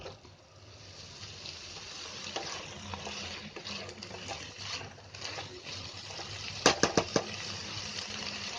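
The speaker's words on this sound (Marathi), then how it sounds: "हे पाण्याचा आवाज असतो. हे बघा हे असं पाणी चरचरतो." Dill leaf and tomato sabzi cooking in a pan as its released water boils off over high heat, giving a steady low sizzle and bubbling with a few sharp stirring clicks near the end, no talking.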